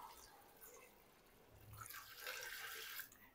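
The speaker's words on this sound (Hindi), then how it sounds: "अब इसमें मैं पानी डाल दूंगा" Water is poured into a pot of spinach and ground-meat keema, a faint splashing pour that swells near the end, quiet and without talk.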